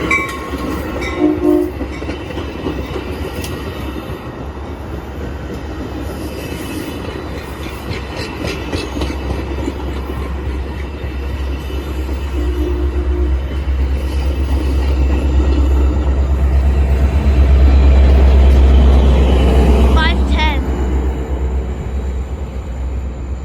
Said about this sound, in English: Oh guys, the inbound metro's coming.